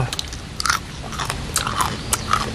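Crunchy dried strawberry and pumpkin snacks bitten and chewed up close, a series of sharp crisp crunches in an uneven rhythm with a soft hum of room noise between bites.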